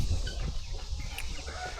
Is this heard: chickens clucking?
yes